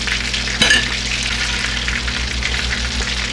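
Breaded Creole-style fish frying in hot oil, a steady close sizzle with a brief clatter as the pieces are stirred, no voices.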